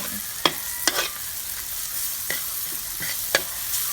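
Chili stir-frying in a pan for Thai pork pad kaprao, a soft continuous sizzle broken by five sharp spatula clacks against the pan at uneven intervals.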